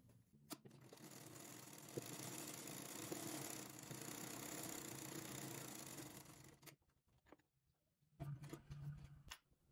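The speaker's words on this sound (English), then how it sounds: "So next thing to do now is to stitch all of this down." A sewing machine stitches down pieces of Ankara fabric for a jacket in a loud, steady mechanical whir for several seconds, then stops and gives short bursts of running and clicking.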